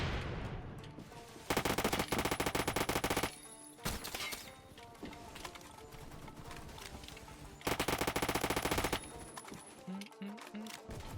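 Rapid bursts of Hecate 2 gunfire in the Roblox video game crackle loudly in repeated volleys over background music, with two dense, heavy stretches of automatic fire and sparser shots between.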